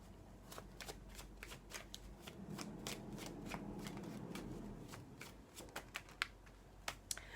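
Tarot cards being shuffled and laid out during a French love-reading session, a steady run of crisp riffling snaps and soft slides with a few sharper card flicks near the end, close and fairly quiet.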